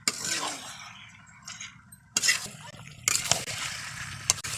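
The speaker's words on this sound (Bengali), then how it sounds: "এখন আমি খুব ভালো করে কষিয়ে নেবো চিকেনটাকে" Chicken being stirred and sautéed in a pan: a soft sizzle runs underneath while a utensil scrapes and knocks against the pan in a few distinct, close strokes.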